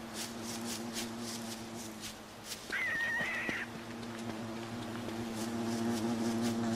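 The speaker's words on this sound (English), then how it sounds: "I can hear that bee again, where are you?" A bee buzzing in the video game Don't Starve, a steady insect drone over looping game ambience, with a brief higher whining tone in the middle.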